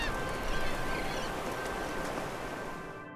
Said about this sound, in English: Historical footage of President Theodore Roosevelt walking on Breton Island as birds fly away.